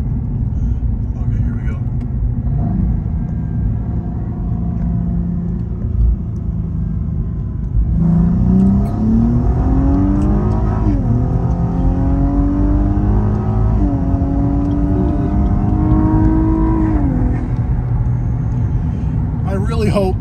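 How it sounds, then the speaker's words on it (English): A Cadillac ATS-V turbo six-cylinder engine accelerates, a low steady drone swelling into rising revs through several gear changes, loud and close from the cabin with a voice talking over it. "The camera is picking up those turbo noises and the engine itself."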